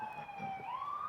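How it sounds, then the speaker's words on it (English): A police siren wails at moderate distance, its tone sliding down and then rising again in a single sustained sweep, faint and steady with no voices. "So the sirens that you hear."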